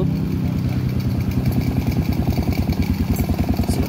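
Motorcycle engine idling just after starting, a close, even, rapid low putter with a steady pulsing beat throughout.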